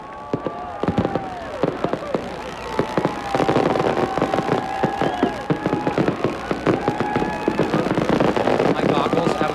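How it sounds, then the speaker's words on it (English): Fireworks go off during live coverage of the 1996 Hacienda implosion in Las Vegas. Loud, rapid bursts and crackles pop in dense clusters throughout, with crowd noise and voices underneath. "And here go the fireworks."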